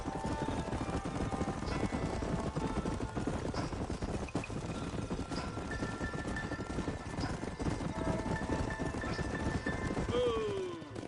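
Horse hooves clip-clop steadily at a trot over rough ground in a Red Dead Western video game, a continuous rhythmic beat with jingling tack and ambient noise behind, carrying on for the whole stretch before easing near the end.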